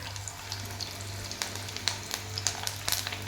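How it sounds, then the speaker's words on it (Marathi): Snack balls deep-frying in hot oil give a steady crackling fizz with scattered sharp pops, close and fairly quiet, over a faint low hum and no talking. "अशाच प्रकारे आपल्याला दुसरे बॉल्स पण टाकायचे आहेत आणि ते पण तळून घ्यायचे आहेत"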